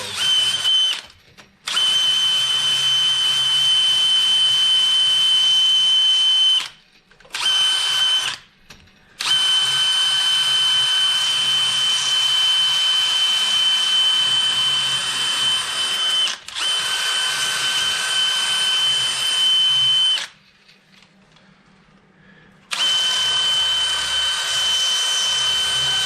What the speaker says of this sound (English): when I'm doing this with this flapper wheel, I'm not taking material away. All I'm doing is just cleaning up the rust